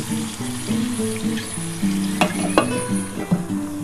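Spiced water is poured into a pot of mutton curry, setting off a close, crackling sizzle with a few sharp utensil clinks against the pot.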